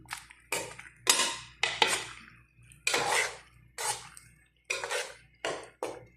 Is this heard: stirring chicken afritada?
yes